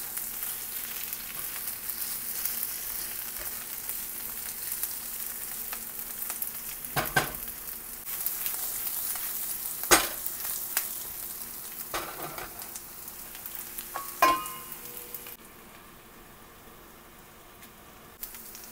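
Chicken and onions frying and being stirred in a pan, a steady broadband sizzle with occasional sharp scrapes and clicks of the utensil, close and fairly loud before the sizzle drops away quieter near the end.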